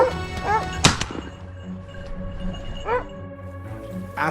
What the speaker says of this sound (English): The hounds barked fiercely.